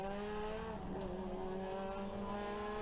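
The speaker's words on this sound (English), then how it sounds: "So you had saloon cars and historic touring cars there." Racing saloon cars and historic touring cars on track give a steady, loud engine whine with shifting pitch as cars pass, plus a brief tyre-squeal flutter midway.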